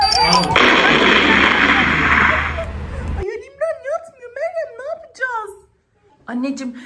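A booming bomb explosion sound effect rumbles loudly for about three seconds and then cuts off abruptly, followed by people talking in the quiet that follows.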